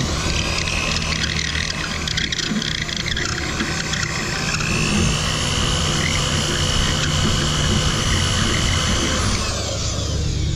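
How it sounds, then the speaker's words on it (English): Power drill boring into the rear wing of a Dodge Charger Scat Pack for a ZL1 wicker bill install, a loud, close, continuous whine held steadily for about ten seconds before the pitch drops as it winds down. "So we're gonna keep on drilling until we can."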